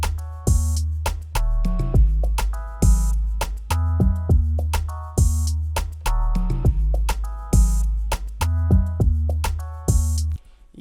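Chords play on a Lounge Lizard electric piano plugin in a repeating progression over a beat of deep bass and drums. The pattern cycles steadily, with each chord struck in rhythm and no voice.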